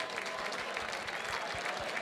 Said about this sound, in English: How about a big round of applause for our